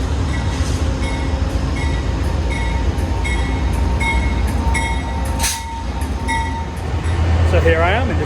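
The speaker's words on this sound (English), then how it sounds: "with the Coast Starlight behind me, Amtrak's Los Angeles to Seattle train" An Amtrak Coast Starlight passenger train, the Los Angeles to Seattle service, rumbles steadily nearby with a low continuous roar, faint squeals and a brief dip midway, and a louder burst near the end.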